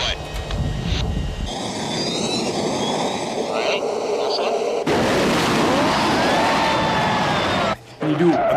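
A plane's engines roar in flight with a steady loud drone and shifting tonal whine, broken by abrupt changes in character, with people talking over it.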